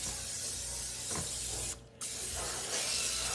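Cooking spray hisses onto a parchment-lined baking pan for banana bread in a home kitchen, a steady close spray broken by a brief pause, then resuming, with no voices.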